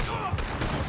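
A burst of gunfire from a Wild West shootout in the video game Red Dead, a short, loud volley with faint background game sound and no clear voices.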